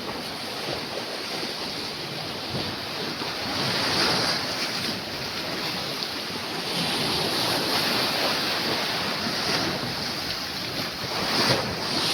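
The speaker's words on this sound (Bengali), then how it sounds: "জলের গতি দেখুন" Sea waves surge against the shore of Mousuni island, where the embankment has broken; a steady, loud rushing wash is heard alone, with strong wind buffeting the microphone.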